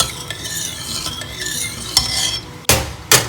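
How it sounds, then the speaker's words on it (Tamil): Rice ada being stirred into milk in a pot for palada payasam, a close, loud run of scraping and swishing, ending with two sharp metallic clinks of the spoon against the vessel. "இப்போ இதை 2 தடவை நல்லா கிளறி விட்டுருங்கோ"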